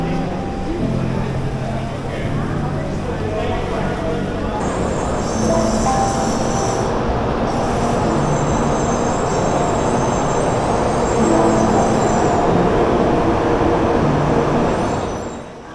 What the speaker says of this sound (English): We boarded another Shinkansen bullet train headed for Osaka.